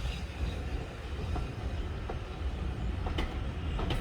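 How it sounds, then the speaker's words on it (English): Train pulling out of a North Yorkshire station bound for Whitby, a steady low rumble of rolling stock with faint clicks from the wheels, heard from the platform with no voices. "I managed to actually get some footage of the train leaving and actually arriving in the station too"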